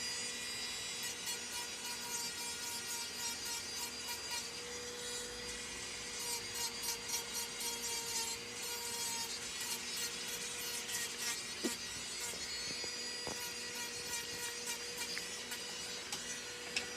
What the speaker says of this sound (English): because we sanded it down the top layer off